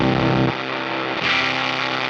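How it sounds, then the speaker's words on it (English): Electric guitar played through a JHS Crayon fuzz pedal with its high-pass filter set at 250 Hz, giving a thin, buzzy distorted tone with bass cut; loud sustained notes alone, a new chord struck about midway. "And then it has a high-pass filter that can be used at 250 or 700 hertz"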